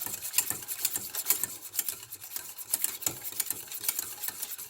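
Rapid, continuous scraping and clinking of a whisk against a bowl, busy and close, with no voices.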